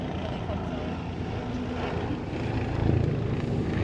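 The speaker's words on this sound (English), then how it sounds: "Helicopter." Helicopter passing overhead, a continuous low, throbbing rumble that swells slightly toward the end, with faint voices underneath.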